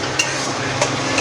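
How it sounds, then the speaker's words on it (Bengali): Spice paste with Kashmiri chili powder being stir-fried for a Bengali lote fish curry, a steady low sizzle with a few light spatula scrapes against the pan at intervals. "এটাকে আরও আমি 5-7 মিনিট কষে নেব একদম ভালো করে।"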